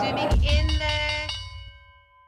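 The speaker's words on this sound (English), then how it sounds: "Right, opening bell." Opening bell on a stock exchange floor at the start of trading, a single loud ringing strike with sustained tonal overtones that slowly fade out.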